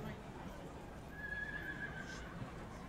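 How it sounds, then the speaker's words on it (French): A horse whinnies faintly in a thin, drawn-out call under steady background noise and an auctioneer's voice at a horse sale. "Super cheval euh, Authorized"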